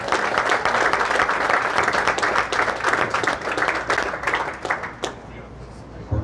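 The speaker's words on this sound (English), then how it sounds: "How about a nice round of applause?" A crowd at a PBA50 bowling tournament claps steadily for a fourth-place finisher, full and even at first, then thinning and fading toward the end.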